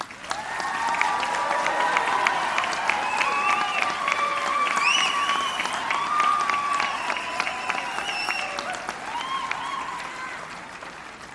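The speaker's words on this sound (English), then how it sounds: "Let's give these students a round of applause." A large audience at a spring nursing graduation and pinning ceremony in Tri Cities applauds and cheers its graduating students. The dense, loud clapping holds steady for the whole stretch, with whoops and cheers rising above it.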